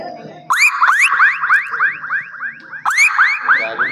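A mimic on a comedy stage vocally imitates a car lock alarm: two loud bursts of rapid, repeating rising chirps, close and clear, with a short break between them.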